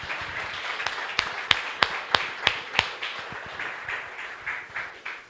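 Church congregation applauding: a short run of sharp, separate claps in a quick series stands above a softer, scattered patter of clapping.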